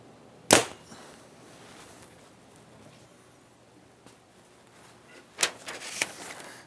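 An arrow leaves a homemade bow with one sharp, close snap of the string. After a quiet stretch, a few fainter clacks and knocks follow, with no one speaking.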